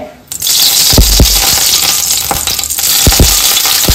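Ghee hits a hot pan for wheat kheer and bursts into a loud, steady sizzle, with sharp clinks and scrapes of a spoon against the pan cutting through the frying hiss close up.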